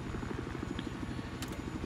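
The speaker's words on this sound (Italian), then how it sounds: "spotto un elicottero nemico." An enemy helicopter flies in the video game Battlefield 4, a steady rhythmic rotor chop with a droning engine underneath, fairly quiet and continuous, with no talk.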